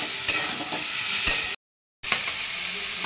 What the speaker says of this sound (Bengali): এবারে আমি একটু সাথে করে নেব এগুলোকে ভালো করে।